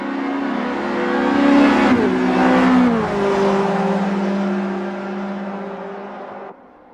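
Race cars in Assetto Corsa, at the Goodwood historic circuit. A close, loud engine drone climbs in pitch, drops sharply with a gear change, then holds and fades away.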